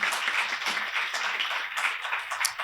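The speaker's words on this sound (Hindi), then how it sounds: "एक बार जोरदार ताली विस्टालैंड के प्रबंधन समिति के लिए बज जाए।" Audience applause at a Hindi poetry recital and award ceremony, a sustained dense patter of many hands clapping at moderate distance with faint voices beneath.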